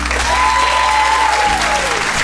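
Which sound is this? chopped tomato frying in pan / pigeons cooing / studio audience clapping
studio audience clapping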